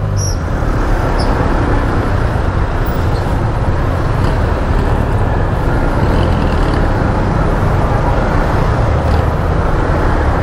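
Steady, dense road traffic from cars and buses, a continuous broadband rumble with engine drone close by and no breaks, loud and unbroken for the whole stretch.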